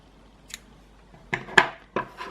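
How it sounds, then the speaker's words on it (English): Scissors snip crochet thread in a few short, sharp clicks close by, one faint cut followed by three louder ones in quick succession. "what we are going to do is to cut off our thread"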